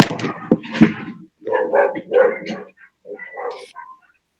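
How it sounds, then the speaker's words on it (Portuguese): A dog barks and yips in short bursts through a call's open microphone, loud and close, with brief pauses between the groups of barks. "Acho que está com som de cachorro latindo aí."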